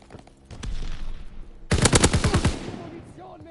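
Call of Duty WWII gunfire: a short shot rings out, then a loud, rapid automatic burst of roughly a dozen rounds, close and harsh, with the echo dying away.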